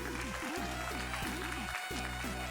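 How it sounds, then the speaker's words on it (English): Steady, dense applause from a speedrunning marathon audience at AGDQ 2020, sustained throughout with a loud, continuous clapping wash. "Let's get a round of applause for Indy learning to count."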